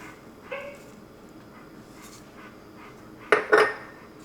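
A metal spoon clinks against a pot of roasted tomato soup while fishing out basil chunks in a home kitchen, with a few light scrapes, then two louder close knocks near the end, no talk.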